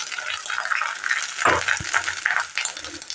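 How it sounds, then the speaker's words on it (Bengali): Grated coconut fries in a pan for a vegetarian taro-leaf dish, a soft close sizzle with wet rustling and a few quick clinks and scrapes as it is stirred, no voices present. "নারকেলটা দিয়ে একটু ভাজা ভাজা করে নেব।"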